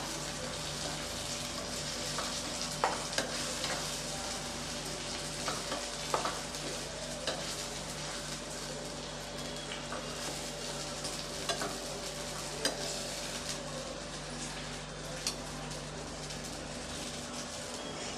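Egg curry masala sautés in oil, giving a steady, fairly soft sizzle that runs unbroken for the whole stretch, with occasional faint stirring clicks and no talk.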